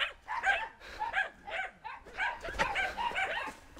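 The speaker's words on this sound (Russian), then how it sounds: "Собаки? Противные, лают, да?" Dogs at a rural village home barking repeatedly in a fast, steady series of yaps, close by and loud, with no talk over them.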